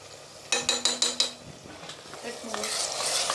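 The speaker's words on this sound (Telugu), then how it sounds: "అల్లం వెల్లిగడ్డ పేస్టు ఈ పసుపు మంచిగా కలుపుకోవాలి పచ్చి వాసన పోయే వరకు" A spoon stirs ginger garlic paste and turmeric into fried onions for mutton curry, with a quick run of five sharp metal taps on the pan followed by a soft sizzle and scraping, close by.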